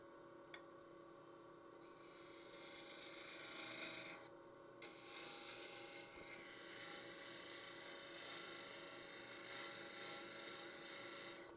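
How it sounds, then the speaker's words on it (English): A gouge hollows the center of an end-grain wood bowl spinning on a lathe, giving a continuous rasping scrape over the steady motor hum, moderately close and unbroken for the whole stretch with no talking. "So I'm going to do some hollowing from the center."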